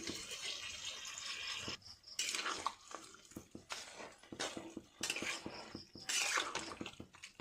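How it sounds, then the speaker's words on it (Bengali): Coconut water being poured into a pot of simmering duck curry, a steady splashing stream with brief pauses and bursts, close and moderately loud with no talking. "দিয়ে দিলাম এই যে নারিকলের পানি ডাবের পানি"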